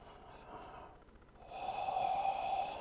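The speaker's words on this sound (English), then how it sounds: "And breathe in deep." A deep, airy inhale during a yoga core exercise comes in near the end after a quieter breath, close and steadily held.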